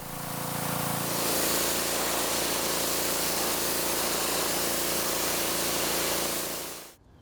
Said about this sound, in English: Now this came out pretty well just with the power washer